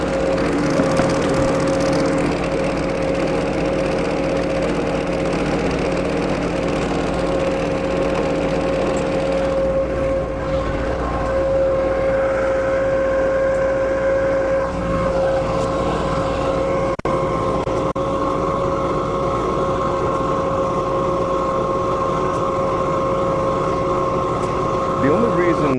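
A loud industrial dust vacuum drones continuously with a steady motor whine and hum, its pitch shifting slightly midway through.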